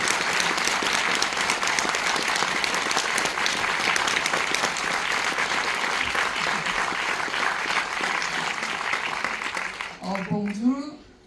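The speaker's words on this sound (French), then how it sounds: "Tout simplement d'applaudissements." Audience applause fills a cinema at a Korean film festival screening, dense and steady for about ten seconds before fading as a voice starts talking.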